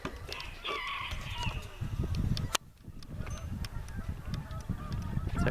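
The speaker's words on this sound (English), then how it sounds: "there's a bantam flock over here" Bantam chickens in a flock call with clucks and honking squawks nearby, repeated calls over steady outdoor background noise, with a brief sharp bang partway through.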